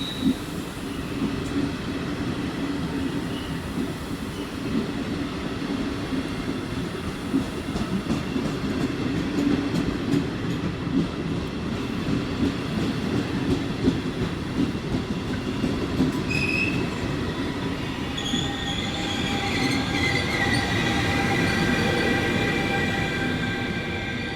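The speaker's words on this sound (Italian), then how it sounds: "Il treno regionale di Trenitalia proveniente da Venezia Santa Lucia e diretto delle ore 15:29 e in arrivo al binario 4." A Trenitalia regional train from Venezia Santa Lucia rumbles steadily into Venezia Mestre station, wheels clacking and droning, with high metallic squeals of braking rising toward the end.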